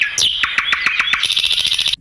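Nightingale song: a loud, close run of rapid repeated whistled chirps with a sharp opening sweep, a steady trilling rhythm, no voices.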